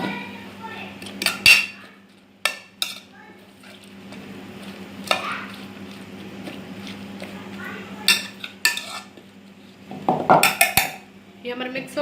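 Marinated salad for beef shawarma is tossed in a bowl, with scattered clinks and knocks of a utensil against the dish and soft wet stirring, in short bursts over a quiet room.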